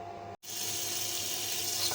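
Chicken breast fat renders in a pan with a steady, even sizzle that runs throughout after a brief silent gap near the start.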